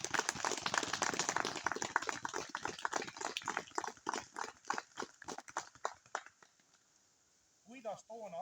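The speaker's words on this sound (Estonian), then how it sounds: "teeme neile kolmele selle tubliduse eest ühe suure aplausi" Audience clapping at an outdoor stone unveiling ceremony, a dense burst of applause that thins into scattered claps and fades out before a voice starts speaking near the end.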